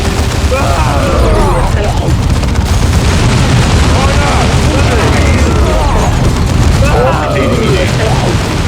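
Battle scene from the video game Dawn of War 2 with orks fighting: continuous loud booms, explosions and gunfire layered densely throughout, with game voices speaking over the din.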